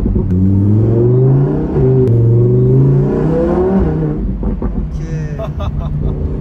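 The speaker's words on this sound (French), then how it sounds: "Là, de jouer avec les palettes avec un V10, c'est incroyable." A 2021 Lamborghini Huracan EVO's V10 engine revs loud and close, rising in pitch through paddle-shifted gears with a sharp shift break, then settling into a rougher burbling drone as a voice speaks over it.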